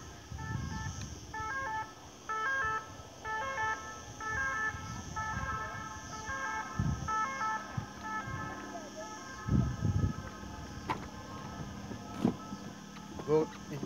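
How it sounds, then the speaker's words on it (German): A yellow ambulance's two-tone siren wails steadily in the distance in Port de Sóller, heard over outdoor ambience with occasional bumps and handling noise nearby. "Ah, das ist ein Krankenwagen in Gelb."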